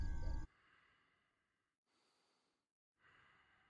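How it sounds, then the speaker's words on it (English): Breathing in the horror game Fears to Fathom: a short, loud huff of breath at the start, followed by two fainter, drawn-out breaths separated by near silence. "Who's that breathing?"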